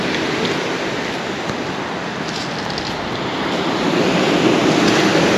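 Sea surf at the beach in Lazarevskoye, Sochi, a steady broad wash of breaking waves mixed with wind buffeting, swelling a little louder toward the end, no one talking.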